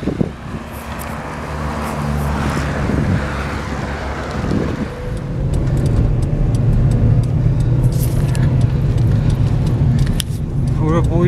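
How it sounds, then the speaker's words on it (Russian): A car rolls past at a crowded fishing spot with many parked vehicles, a rumbling engine and tire noise swelling nearby under wind buffeting the microphone, while someone talks over it. "О, машина."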